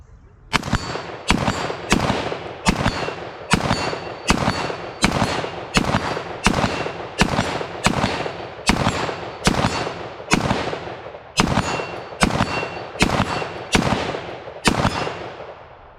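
An IWI Tavor X95 rifle firing a string of about fifteen loud, sharp shots at a steady, evenly spaced pace, each report cracking close by with a brief ringing tail, no talk.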